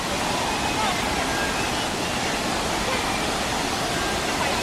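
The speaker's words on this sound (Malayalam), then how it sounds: "സിംഗപ്പൂരിലെ ഒരു വെള്ളച്ചാട്ടം," A waterfall in the landscaped bird park forest area of Jurong Bird Park, Singapore, roars as a steady, dense rush of falling water, loud and continuous without pause.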